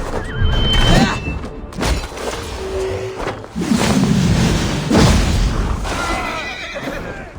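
Horses neighing loudly in a battle scene of the video game Assassin's Creed Valhalla, several long whinnies over a dense roar of fighting and wind-like noise, with brief voices.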